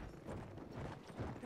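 Horse hooves clip-clop in Battlefield 1 as a mount trots through the game, a steady run of soft thudding steps that stays close and fairly even throughout.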